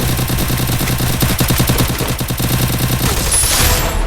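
Rapid bursts of video-game gunfire from the mobile shooter Free Fire, dense automatic volleys and overlapping shots filling the whole stretch at loud, steady volume with no talking.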